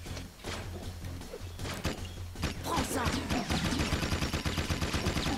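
Rapid bursts of gunfire from the blue gun in the Jak and Daxter 2 video game, dense and repeated, growing louder and more continuous toward the end with impacts and thuds mixed in.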